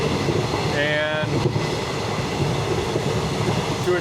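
An older, slow train rolls along with its doors open, a steady loud rumble of wheels and carriage noise with a brief high squeal near the start.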